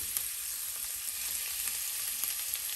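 Cumin, ajwain and a spice mixture sizzling in hot oil in a pan, a steady, fairly quiet frying hiss with faint stirring clicks and no talking.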